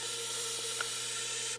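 White spray paint hisses from an aerosol can onto a steel welding helmet, one long continuous close spray that cuts off abruptly at the end.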